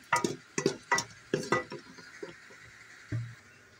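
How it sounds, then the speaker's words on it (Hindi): Whole spices (cinnamon pieces, cloves, black cardamom and peppercorns) stirred in hot oil in a pan, making a series of sharp spoon-on-metal clinks and scrapes over a faint, quiet sizzle, with no talking. "इसी ऑयल में अब ये हम भून लेंगे।"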